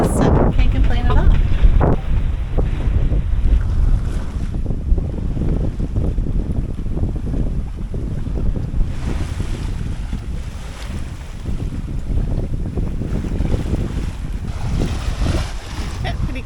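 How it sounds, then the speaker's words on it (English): A sailboat runs downwind under sail with its engine shut off, making about 6 knots over flat seas in roughly 18 knots of wind. A steady, loud rush of wind and water continues throughout, with buffeting gusts at the microphone. "so shut off the engine, just sailing along"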